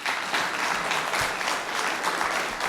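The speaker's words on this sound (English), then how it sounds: "Are we allowed to clap?" An audience applauds at a school board business meeting with a steady, moderately loud patter of many hands clapping throughout, and a few voices murmur beneath it.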